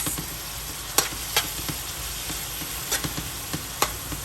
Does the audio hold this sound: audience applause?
no